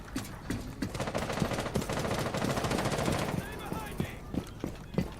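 Rapid machine gun fire from a Rainbow Six Siege match rattles in a dense, continuous burst for about three seconds, then breaks into scattered single shots, fairly close and loud.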